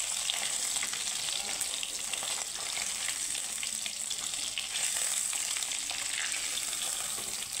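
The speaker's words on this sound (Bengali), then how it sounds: "এখানে আমার মাছগুলো খুব সুন্দর করে আমি লাল লাল করে ভেজে নিয়েছি" Fish fries in hot oil in a pan, a steady bright sizzle and crackle running evenly throughout at moderate volume with no talking.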